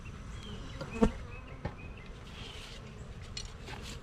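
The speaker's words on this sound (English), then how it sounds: "Still got bees here." Honey bees buzzing around an opened hive during an October inspection, a soft steady hum with a brief louder bee passing close near the start.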